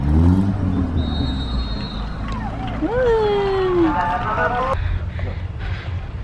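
Cars idling and creeping in traffic at a county fair, a steady low engine rumble with a brief rising tone, close by under continuous talking voices.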